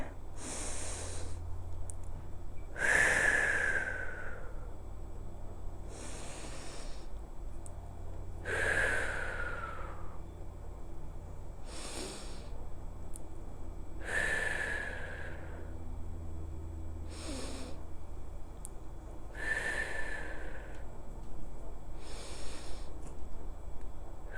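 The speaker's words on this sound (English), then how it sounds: "So breathing through the belly on this one, so breathing in." Slow, deep belly breaths during a whole-body stretching routine, about five long inhale-exhale cycles spaced several seconds apart, close and clear with faint airy whistles on each breath.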